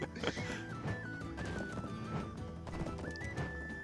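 Horse hooves gallop in the online role-playing game Black Desert during a horse race, a steady rolling beat running under continuous game music with brief whinnies.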